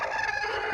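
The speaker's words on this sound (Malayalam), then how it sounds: "ഇതൊരു അങ്കക്കോഴിയാണ്." A fighting rooster crows once, close and loud, in a short, strained call that fills the whole moment.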